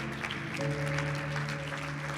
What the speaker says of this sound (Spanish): Denle ese aplauso bien fuerte al Señor.